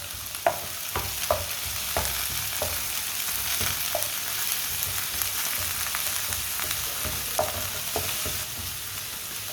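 Roll filling with finely chopped fresh coriander cooking in a pan, a steady frying sizzle under a handful of light scrapes and taps from stirring, close and even, with no speech.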